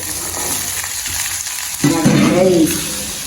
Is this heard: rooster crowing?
no